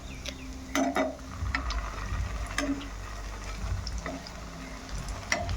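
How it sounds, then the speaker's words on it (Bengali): Chhena balls fry slowly in ghee over a low flame, giving a soft, steady close sizzle with a few sharper crackles and light clicks of stirring. "আর একটু ঘি তার মধ্যে আস্তে আস্তে করে আমি বলগুলো ছেড়ে দিচ্ছি এগুলো আস্তে আস্তেই ভাজতে হবে লো ফ্লেমে"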